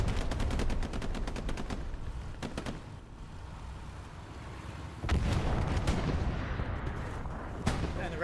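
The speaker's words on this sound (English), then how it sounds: "Crazy long-range rocket from JPL." Long-range rocket explosions crack and boom in the Hell Let Loose battlefield game, loud blasts at the start and again around the middle, with scattered rapid gunfire crackling between them and a dense rumble underneath.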